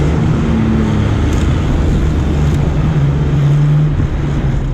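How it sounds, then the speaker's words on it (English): A train going by nearby gives a steady, loud low rumble with a droning tone, easily mistaken for a passing car, holding at an even level throughout. "There's a train going by, and I thought it was a car for a moment."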